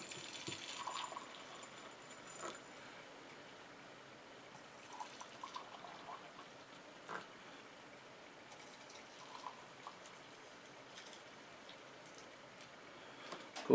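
Just-boiled water is poured into a 5-gallon bucket of tree seeds for winter sowing, a faint, steady watery trickle running throughout with a few soft knocks.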